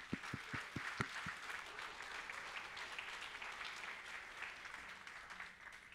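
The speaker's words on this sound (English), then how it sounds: "How about a quick round of applause for all the startups that pitched today?" Audience at a tech summit gives a quick round of applause for pitching startups, opening with a few sharp individual claps before settling into steady, moderately distant clapping that tapers off.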